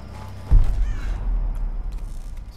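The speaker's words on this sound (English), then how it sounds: "Birds." Birds caw in the video game Tomb Raider, with several harsh calls after a sudden low thump, heard at moderate distance over ambient game background, with no talk.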